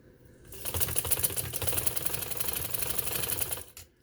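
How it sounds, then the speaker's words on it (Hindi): A sewing machine stitches lace onto a garment neckline, running in a steady rapid clatter for about three seconds after a short quiet start, close and loud with no talking. "अब मैं यहाँ से लाती हूँ और मैं इसकी स्टिचिंग करती हूँ।"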